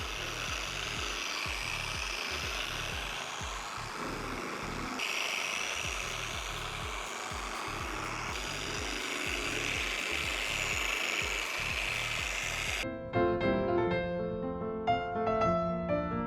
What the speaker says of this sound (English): So on speed setting 1, I'm just gonna turn on the machine, spread it out, let it sit for 15 minutes